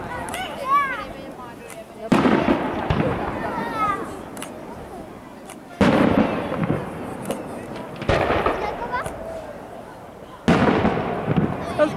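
Fireworks launched and exploding outdoors in Finland, several sharp bursts and crackling booms spread over the span, with whistling launches and people talking in between.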